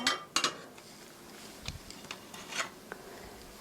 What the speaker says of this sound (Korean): 팬을 얹으시고요